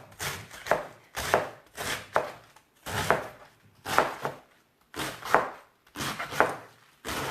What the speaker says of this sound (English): I'm going to shred my cabbage here.